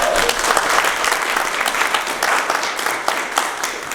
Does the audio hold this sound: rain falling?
no